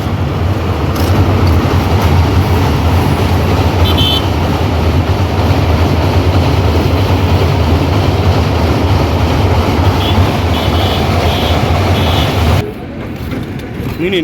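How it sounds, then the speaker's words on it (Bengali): A loud train rumbles past on the railway by a bridge, its heavy steady roar and clatter filling the scene for about twelve seconds before cutting off abruptly. "এই যে ট্রেন যায়"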